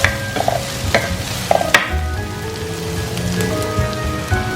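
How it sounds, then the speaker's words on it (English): Previously fried mushrooms go into a cooking mushroom cutlet mixture, with a few sharp stirring knocks and scrapes early on, then a steady crackling simmer that sounds like rain on a surface. "while this is cooking, I will add in the mushrooms which we have fried earlier"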